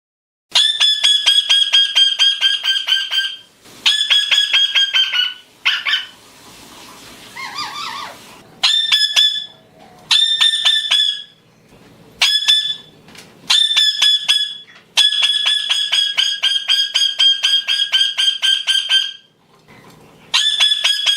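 A female Indian ringneck parakeet screams loudly and up close, with shrill, harsh calls in rapid repeated bursts separated by short pauses and one rougher squawking stretch, with no voices.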